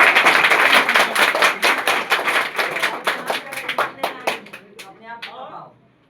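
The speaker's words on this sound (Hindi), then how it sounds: "ताली बजा लीजिए।" Clapping from an audience at a village gathering in Mahnar starts loud and dense, then thins into scattered claps and fades out near the end, with a brief voice over the tail.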